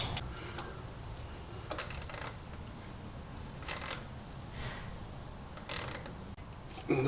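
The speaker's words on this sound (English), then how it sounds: "I'm gonna try ratcheting wrench first." Ratcheting wrench clicking in short bursts while tightening an 8mm hose clamp during a Miata turbo oil and coolant line install, several quick ratchet runs separated by pauses, close and fairly quiet.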